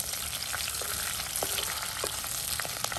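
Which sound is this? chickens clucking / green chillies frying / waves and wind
green chillies frying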